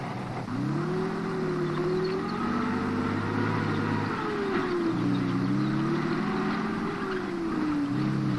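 Tanks driving down a street, a steady droning engine rumble with slowly rising and falling pitch, loud and continuous throughout, with no talk.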